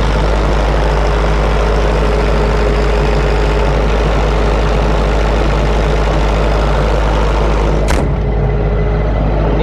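A diesel generator with a brand-new silent canopy runs steadily, a loud continuous low engine hum with a constant drone throughout and a brief disturbance near the end.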